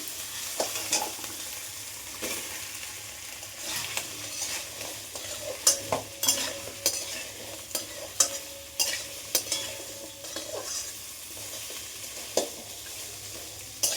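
Vegetables such as papaya, carrot, potato and beans go one by one into a wok for chicken stew, with a steady sizzle and scraping stirs, spatula clatters and taps punctuating it close up.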